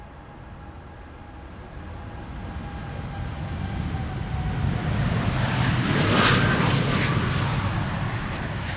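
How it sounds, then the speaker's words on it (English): TUI Boeing 787-8 Dreamliner departing from the Polderbaan runway at Amsterdam Schiphol in rain showers, a broad jet roar building steadily over several seconds and peaking loud near the end, with no talk. "It is time now for a Dreamliner from TUI to leave flight 361 to Curacao, 7878 Dreamliner."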